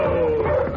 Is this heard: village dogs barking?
yes